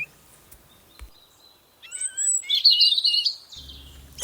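Eurasian bullfinch calling in a winter garden or forest: a few soft whistled notes, then a brighter burst of chirping, moderately close, after a quiet start with faint knocks.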